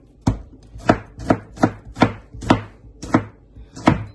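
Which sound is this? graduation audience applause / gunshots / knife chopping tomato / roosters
knife chopping tomato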